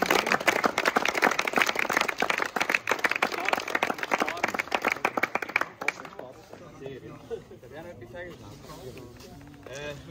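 Applause and clapping greet a third-place team, NPC Racing, at a turbo-kart race in Wohlen, Switzerland. Dense, loud clapping fills the first six seconds and then thins out, leaving talk and crowd murmur.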